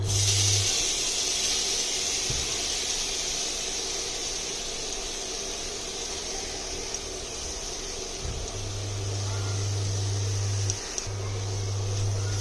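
Grated coconut sizzles in melted ghee in a wok, a steady bright hiss running throughout with a low hum and a few soft knocks.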